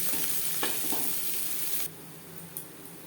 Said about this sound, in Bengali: পনেরো কুড়ি সেকেন্ড ভেজে নেওয়ার পর দিয়ে দেবো একটা মিডিয়াম সাইজের পেঁয়াজ এটা আমি কুচি করে কেটে নিয়েছি